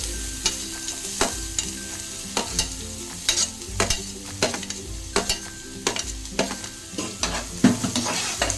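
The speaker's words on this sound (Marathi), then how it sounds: "आता मी ह्याच्यात कांदा टाकते फ्राय करण्यासाठी" Onion frying for kaju masala sizzles steadily in a pan while a spatula scrapes and taps in a regular rhythm, close and fairly loud, with no talk.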